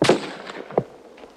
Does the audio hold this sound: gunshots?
yes